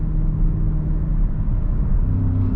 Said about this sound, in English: It's got a beautiful deep bellowing sound, which you don't usually get on European V8s